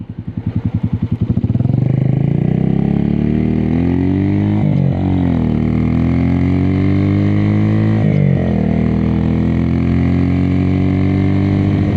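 A Suzuki TU250X motorcycle with an aftermarket MGO muffler: close, loud exhaust thumps at first, then a rise in revs to a strong steady drone with a couple of brief throttle dips.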